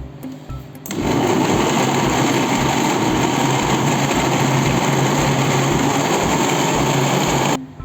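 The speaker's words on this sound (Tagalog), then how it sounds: "So yan, round 2 sa pag-blender natin." A blender motor starts abruptly and runs loud and steady with a high whine for several seconds, then cuts off.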